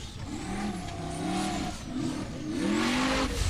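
A Formula Offroad car revving hard at full throttle during the 2018 World Cup, its engine note rising and falling in repeated surging pitch sweeps, loud and close, with gravelly noise behind it.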